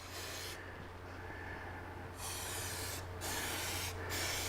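Pig Spit S100 engine brightener sprays in a fine mist onto a Harley-Davidson Touring motor, a steady close hiss running throughout with brief breaks and slight shifts in level, over a low constant hum.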